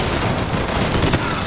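Rapid gunfire from the video game BioShock Infinite fills a short, loud burst, dense and continuous, with a brief swell near the end and no clear talk over it.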